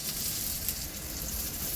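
Tomato masala for a Kerala-style crab roast sizzles steadily in a pan, a close, even hiss with no voices.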